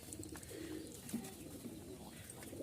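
Rajshahi giribaz pigeons, a male and a female kept in a cage, give a steady run of low, throaty coos close by, with no talking.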